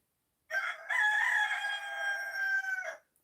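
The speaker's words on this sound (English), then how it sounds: "Can you sleep with those animals outside crowing away like that?" Rooster crowing outdoors before dawn in New Zealand, a single clear cock-a-doodle-doo lasting about two and a half seconds against near silence.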